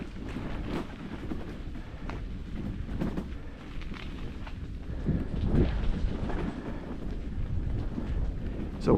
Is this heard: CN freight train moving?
yes